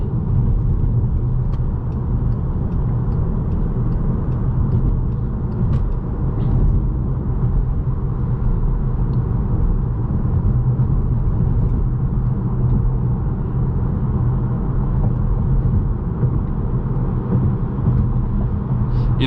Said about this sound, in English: we're gonna get onto the highway here and see what it's like at highway speeds